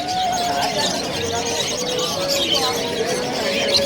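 Pigeons coo and chirp among the murmur of a busy bird market crowd, their calls faint and mixed with voices throughout.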